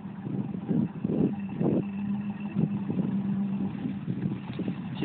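A 2007 Chevy Silverado with a 6-inch lift and 35-inch tires on 20-inch wheels strains against a hill, its engine droning steadily with surging revs, a rough low hum under muffled noise, fairly close and continuous.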